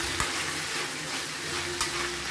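Vegetable curry (sabzi) sizzling steadily in a pan, a dense close frying hiss with a couple of soft scraping stirs, no voices.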